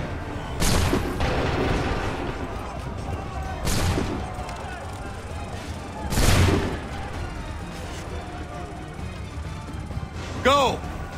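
Volleys of musket fire in Assassin's Creed III ring out as three loud, separate booming bursts a few seconds apart, with crowded battle noise and shouting voices between them and a whooshing sweep near the end.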